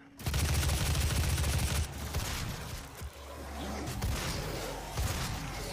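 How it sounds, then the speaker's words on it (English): Heavy shotgun blasts in the Doom video game, a loud burst of rapid booming shots at the start followed by scattered further blasts and rumbling combat noise. "Boy, it's a freaking shotgun."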